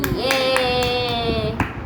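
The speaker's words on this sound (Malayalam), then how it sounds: "രണ്ടുപേർക്ക് ഒരു കയ്യടി, പിന്നെ ജാനുട്ടിക്ക് ഒരു കയ്യടി." A handful of hand claps sound in a loose, steady rhythm over a sustained musical tone, given as applause for two players and a girl named Janutty.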